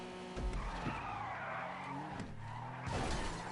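Car tires skid and squeal through a drift in GTA 5 racing, with engine roar underneath and the screech rising and falling over several seconds, loud and close.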